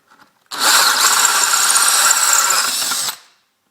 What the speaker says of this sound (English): drill most of the way through on one side